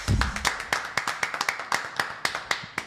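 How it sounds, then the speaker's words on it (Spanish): A small audience claps at a talk on capital gains and taxation: a sparse, fairly close patter of individual hand claps at an irregular rhythm, with a brief low thump at the start. "Vamos a darle un fuerte aplauso a Carlos Martínez Portes."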